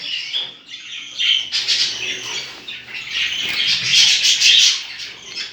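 Pet budgies in a home aviary chirping and squawking, a busy close chatter of bright calls with some wing and rustling movement, no talking.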